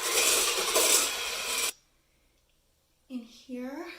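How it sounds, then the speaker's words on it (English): Espresso and sugar whisked briskly in a bowl for Dalgona coffee, a loud continuous rasping whir up close that stops abruptly, followed by silence and then a person speaking. "And just whisk it."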